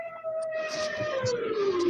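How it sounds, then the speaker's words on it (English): A police siren's wailing tone slides steadily downward in pitch as it winds down, fairly faint against light background noise. "That siren died a death."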